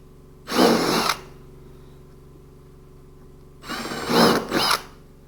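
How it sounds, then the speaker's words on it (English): A power drill whirs close by in two short bursts while drilling a hole in a fuel tote, the second burst stuttering on and off, with a faint mechanical hum in between. "drill a hole."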